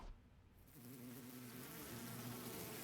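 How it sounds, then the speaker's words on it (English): A swarm of bees descends in The Hundred Line video game, its buzzing wings building quickly into a steady, dense drone that fills the scene. "The bees that had been hovering near the ceiling descended, a terrible cacophony of beating wings."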